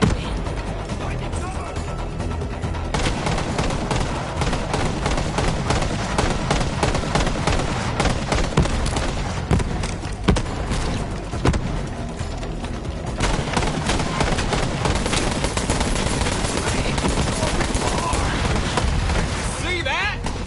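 Sustained gunfire and mechanical weapon clatter in the looter-shooter video game Borderlands 3, playing as Zane, dense and continuous for about twenty seconds with brief shifts in intensity.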